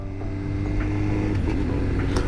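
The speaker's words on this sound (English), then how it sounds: "I can shift without using the clutch." A motorcycle shifts up without the clutch, a brief mechanical clunk and ratcheting click over the steady hum of the running engine, close by.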